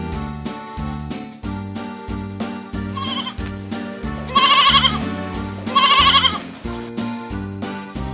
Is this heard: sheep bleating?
yes